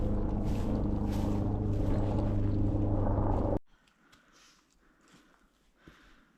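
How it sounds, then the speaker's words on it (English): A Coast Guard mountain rescue aircraft flies by, a loud, broad rotor-and-engine roar that ends abruptly after about three and a half seconds, followed by faint outdoor ambience on a mountain. "Getting a flyby of Mountain Rescue there."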